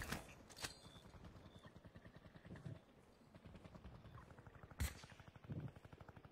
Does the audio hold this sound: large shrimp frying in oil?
no